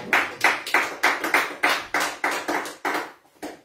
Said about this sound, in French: Est-ce qu'on va acclamer pour la gloire?